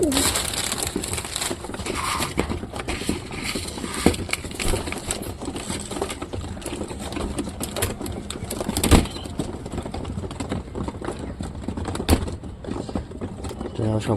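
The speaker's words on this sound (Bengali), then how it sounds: "সব কবুতর খুব সুন্দর খাচ্ছে।" Pigeons peck and scratch at feed close by, a busy crackling and rustling of grain with scattered louder knocks, continuing steadily over a low background hum.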